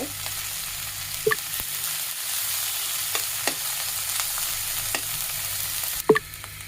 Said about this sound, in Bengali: এখানে যে বাঁধাকপিটা আমি রেখেছি সেই কপিটা একটু ভেজে নিব